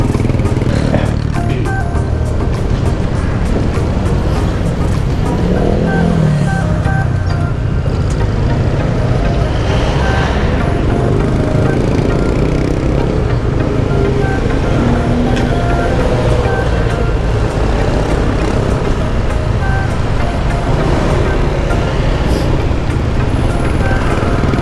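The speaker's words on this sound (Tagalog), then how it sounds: "Medyo ma-traffic na." Dense, steady road traffic with motorcycle engine rumble and passing vehicles heard from a Ducati on a congested road, a loud continuous roar with no clear gaps.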